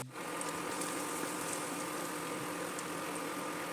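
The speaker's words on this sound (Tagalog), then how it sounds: "pwede na tayong maggisa ng bawang" Garlic sautés in a pan with a steady, even sizzle and crackle that holds from start to end, close and moderately quiet with no voices.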